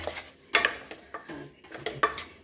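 A spoon stirring a barfi mixture with cardamom powder in a thick-bottomed kadai, giving several close, irregular scraping clinks and soft knocks against the metal, with no talking.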